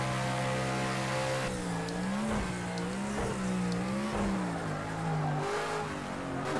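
A V8 race car engine in the racing game Project CARS 2 roars loud and steady, its pitch climbing and dropping through gear shifts and throttle changes across the whole stretch, with no voices over it.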